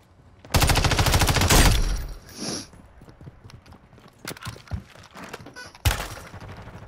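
Gunfire in a Call of Duty match, a loud rapid burst of shots up front, then scattered quieter game noise and one more sharp blast near the end.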